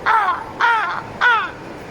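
Crows cawing from a tree: three loud, harsh caws evenly spaced about half a second apart, close by and clear, with no talk over them.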